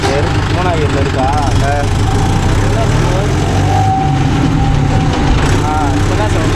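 A Mahindra Yuvo Tech Plus 585 4WD shuttle tractor engine runs steadily nearby with a loud, constant low rumble, while people talk over it throughout.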